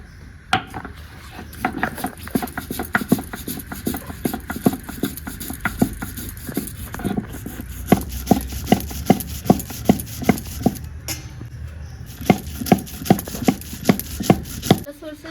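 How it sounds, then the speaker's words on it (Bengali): Black mustard seeds and poppy seeds ground on a stone slab, a steady run of close, rhythmic scraping and knocking strokes that keeps going the whole time, with no talking. "এগুলো সব বেটে নেব শিলে।"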